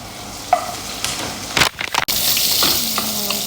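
Onions and garlic frying in plenty of olive oil, a bright continuous sizzle close by, broken by a few clattering stirs and scrapes in the pan.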